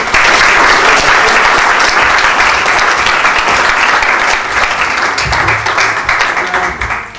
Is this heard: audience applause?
yes